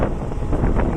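Outdoor wind buffeting the microphone ahead of rain, a dense low rumbling rush that stays loud for about a second with no voices.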